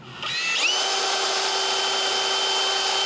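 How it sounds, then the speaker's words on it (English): A power drill bores a hole through a wooden musical nutcracker, a steady high whine that starts after a brief spin-up and holds loud and constant throughout, with no talking. "I drill a hole so the speaker can be outside"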